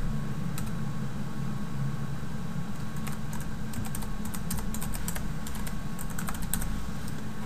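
Keys clatter on a computer keyboard as an email address is typed, a run of light, irregular clicks in quick bursts over a steady fan-like background hum.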